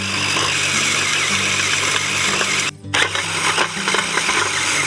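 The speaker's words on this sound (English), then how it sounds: "we're going to use the tilther from Johnny's to make a good good soil tilth" A Johnny's tilther, a small battery-powered tiller, works the soil of a garden bed, a steady whining motor with scraping, rattling tines, briefly cutting out and then resuming near the end.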